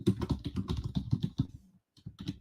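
Rapid clatter of keys on a computer keyboard, a quick close burst of typing with a brief pause before a few more strokes.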